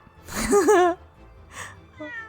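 A cartoon cat in the video game The Great Ace Attorney lets out a loud, wavering meow, followed by two softer, shorter mews, close and clear.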